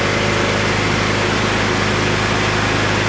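A lawn tractor engine converted to run on ethanol idles steadily on full choke, a constant close mechanical drone with a fast, even pulsing and no other sounds.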